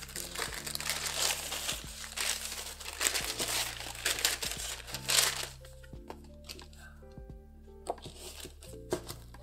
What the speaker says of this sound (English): I have a feeling this is probably no issue tissue paper as well